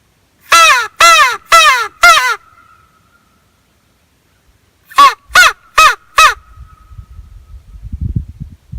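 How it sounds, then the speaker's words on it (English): Loud, close cawing comes in two bursts of four evenly spaced caws, separated by a quiet gap, with faint low rustling afterward. "Or not a hawk, but the crow."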